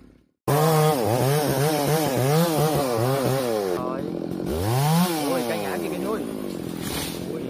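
A chainsaw cuts a rubber tree, its loud close engine revving up and down in repeated surges before settling into a steady high buzz, with voices heard around it.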